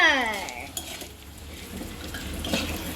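Fried edible gum (dink) lifted out of a hot pan with a metal utensil, a brief scrape and clink over soft sizzling oil, close and short.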